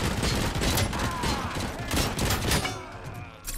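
Machine gun fire in a Robocop video game, loud, dense bursts of rapid shots nearly continuous for about two and a half seconds, then thinning out, with some voice faintly mixed in.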